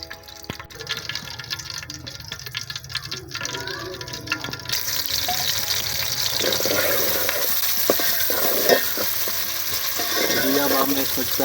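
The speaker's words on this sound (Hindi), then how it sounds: "अब हमने इसमें प्याज डाल दिए हैं और इसे हम हल्के से ब्राउन होने देंगे।" Onions frying in ghee for a radish paratha filling, a steady dense sizzle that grows fuller and louder after the first few seconds, with scraping stirs and a few clinks over continuous crackle, no talk.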